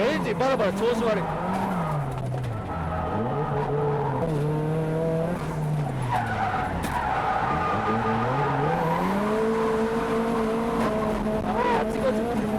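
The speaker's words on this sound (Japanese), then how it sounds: "あとエンジンバラバラ調子悪い。" A super-lowered drift car with a rough, uneven-running engine, loud and close from inside the cabin as revs rise and fall with tire squeal, and someone talks over it.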